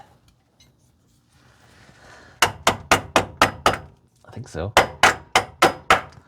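Repeated hammer blows while installing a Kafer bar on a 1956 Volkswagen Beetle oval ragtop, two loud close bursts of sharp evenly spaced strikes separated by a short pause, with a brief spoken remark between them.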